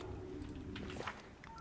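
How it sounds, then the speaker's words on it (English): Faint cell phone tones play briefly, short electronic beeps similar to dialing, mixed with low background game sounds during a Pathfinder: Kingmaker session. "Sorry for the cell phone, by the way."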